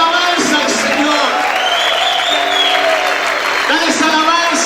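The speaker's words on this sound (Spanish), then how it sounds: "Aplaude fuerte al Señor" Congregation applauding during a Spanish-language church service, a steady wash of clapping and crowd noise across the whole stretch, with a voice talking and calling out over it.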